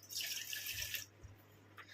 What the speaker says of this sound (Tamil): இதில் வந்து 1 டம்ளர் அளவுக்கு நம்ம தண்ணி சேர்த்துக்கலாம்